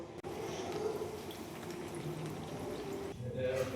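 Ripe mango malpua frying in hot oil, a steady close bubbling sizzle that holds evenly throughout and swells a little near the end.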